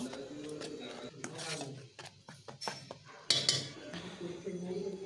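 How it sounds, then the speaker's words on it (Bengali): A spoon scrapes and clinks against a bowl while flour, salt and baking powder are mixed for a soft bakery-style bread made on a gas stove, in uneven bursts close by, with faint talk at the start and end. "এখন ভালো করে মিশিয়ে দিচ্ছি।"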